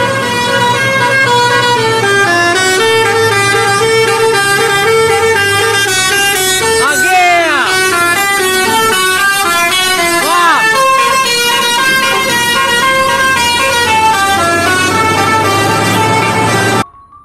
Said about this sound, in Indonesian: Wah, kali ini ada bus